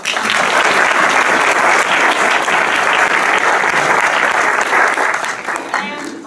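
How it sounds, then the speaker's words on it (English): Sustained, loud applause from an audience at an ACLU of Northern California Bill of Rights Day event, honoring the event organizing staff; dense, steady clapping fills the whole stretch and eases off slightly near the end. "please give them a round of applause"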